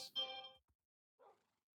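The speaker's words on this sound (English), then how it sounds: "I hear you messaging me on my phone" A phone message notification chimes once in a quiet room, a short bright tone that fades quickly, followed by a faint second blip about a second later.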